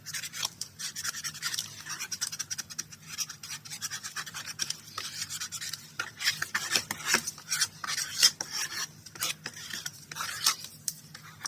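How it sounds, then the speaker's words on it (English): Burnishing the edge of a handmade coffee journal, giving a steady run of close, dry rubbing and scraping strokes with irregular rhythm, heard alone throughout. "And then burnishing it out to the edge."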